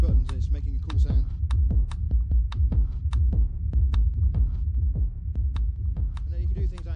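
Live-coded electronic sequencer music made in Clojure: a steady throbbing bass pulse with sharp repeating clicky percussive hits in a looping rhythm, played loud and continuous.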